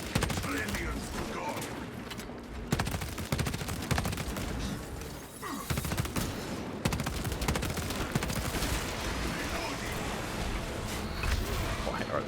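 Dense sniper and rifle fire crackles almost without pause in the Space Marine video game, with sharp shots layered over a continuous battle din while a voice talks over it.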